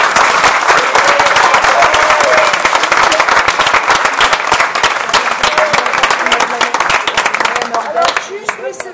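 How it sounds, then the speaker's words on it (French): A crowd at a tribute applauds loudly and continuously, dense clapping filling the space for several seconds before thinning out, with voices mixed in beneath. "Je voudrais que vous applaudissiez Noël."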